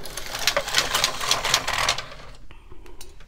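A knitting machine carriage (KX350 or LK150) runs a row in white yarn for Fair Isle brick stitch, a steady run of rapid clacking and whirring for about two seconds, then stopping into quieter clicks.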